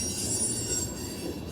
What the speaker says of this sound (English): so trains are actually starting to move